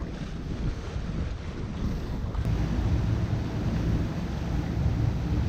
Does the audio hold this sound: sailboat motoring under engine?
yes